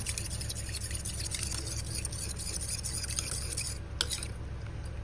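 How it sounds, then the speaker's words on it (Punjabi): A spoon stirs custard powder into a little milk in a small bowl, a steady continuous scraping and swirling that runs unbroken for several seconds, close and alone with no talk. "ਥੋੜਾ ਜਿਹਾ ਦੁੱਧ ਲਿਆ ਕੋਲੀ ਵਿੱਚ ਉਹਦੇ ਵਿੱਚ ਪਾਇਆ ਕਸਟਰਡ ਇਹਨੂੰ ਚੰਗੀ ਤਰ੍ਹਾਂ ਘੋਲਾਂਗੇ ਆਪਾਂ"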